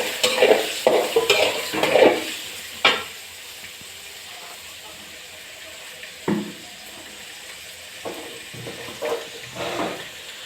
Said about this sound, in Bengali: পেঁয়াজ হয়ে গেছে, এবার চিংড়ি মাছগুলো ঢেলে দিচ্ছি।